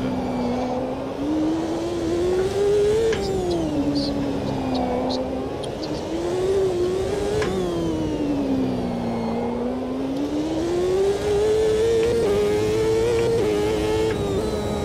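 Engine of a CART race car in a racing video game, a loud continuous whining drone that rises and falls in pitch with the revs through the whole stretch.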